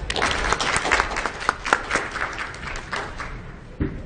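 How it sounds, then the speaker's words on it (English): Audience applause at a 2017 expo talk as the speaker is welcomed, a dense steady clapping from a crowd in a hall that tapers off near the end. "So let's give a round of applause for Dr."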